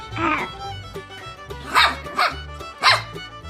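A voice imitates a dog barking, giving three short, loud woof-like bursts close to the microphone, with a low background hum.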